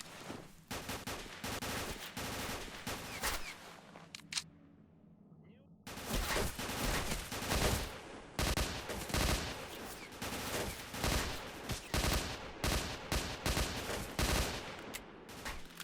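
Repeated bursts of automatic gunfire in the game S.T.A.L.K.E.R. OGSE 0.6.9.3, loud and dense shots cracking almost continuously, with a short lull in the middle before the firing resumes.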